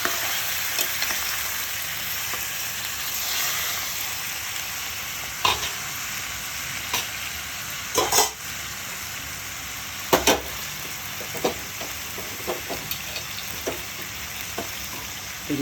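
Tomato pieces fry in a pan with a constant bright sizzle, broken by a few sharp clatters and scrapes as they are stirred.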